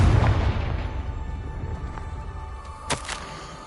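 A Confringo blasting spell explodes in Hogwarts Legacy: a heavy boom at the start that rumbles off and fades, followed by a brief sharp crackle near the end, with no talking over it.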